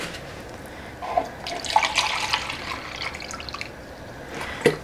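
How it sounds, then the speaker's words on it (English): Vinegar pours from a two-cup measuring cup into a pot of water for dill pickles, a soft splashing trickle with scattered drips, faint and steady with no voices. "So now we're going to put in 6 cups of vinegar."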